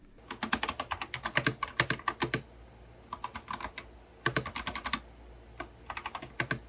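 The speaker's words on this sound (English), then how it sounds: "The closest comparison I could find to the Holy Panda X switches is brown switches" Typing on a Drop Lord of the Rings mechanical keyboard with tactile Holy Panda X switches, close, crisp rapid keystroke bursts in several runs with short pauses between, no voices.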